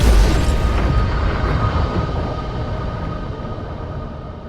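A big explosion on the deck of the ship Mont-Blanc, a loud deep boom at the start that rolls into a long rumble, slowly fading over several seconds.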